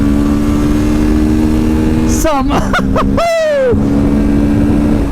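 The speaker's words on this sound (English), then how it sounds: "I definitely like the sound of this motorcycle." A twin-cylinder motorcycle engine drones steadily up close, then revs sharply several times in rising bursts before settling back to its hum, with someone talking over it.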